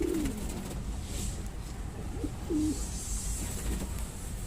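A Pulsar pigeon coos in soft low bursts, a few brief calls spread across a steady background hum and noisy room.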